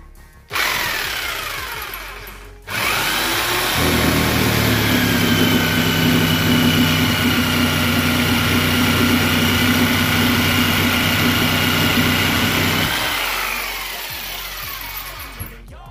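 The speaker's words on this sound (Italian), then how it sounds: "andrò a tagliare in questo caso uno scarto di listone di abeti di spessore di circa di 4 cm, farò un taglio" A jigsaw cuts across the grain of a scrap fir batten about 4 cm thick, using a coarse-toothed blade. The motor buzzes loudly and steadily for about ten seconds after a brief start, then winds down.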